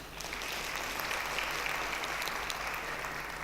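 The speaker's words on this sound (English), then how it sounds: "can we have a big clap?" At an East African business council's 20th anniversary celebration, an audience claps for women cross-border traders: a steady, even roar of many hands, dense and sustained from start to finish.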